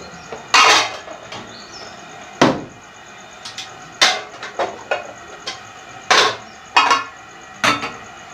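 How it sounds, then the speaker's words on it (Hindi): A metal steamer set over boiling water in a home kitchen while momos are made, then covered with a lid: a series of sharp metallic clanks and knocks, close and loud, spaced irregularly over a faint steady background hiss. "हम इस पर इसको रखेंगे स्टीमर को और इसको ऐसे ढक देंगे"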